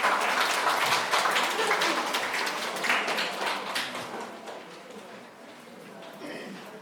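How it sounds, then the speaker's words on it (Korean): Audience applause at a high school admissions information session in Daegu as a speaker is welcomed to the stage, loud sustained clapping from a hall crowd that gradually thins out. "큰 박수로 맞이해 주십시오."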